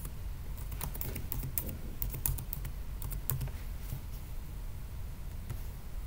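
Keys clatter on a computer keyboard as a file name is typed in short irregular bursts, close and moderately quiet over a steady low room hum.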